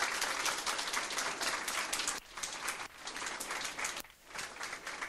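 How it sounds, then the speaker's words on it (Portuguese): An audience at a literary talk applauds an author, a dense wash of clapping that dips briefly twice before picking back up, with no speech over it. "Queria convidar o Marcelo Moutinho, aplausos para ele."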